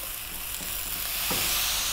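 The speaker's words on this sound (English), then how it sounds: "Again, stir frying this on this lively heat." Mushrooms and tofu stir-frying over high heat give a steady close sizzle with a soft stirring scrape, alone and fairly quiet.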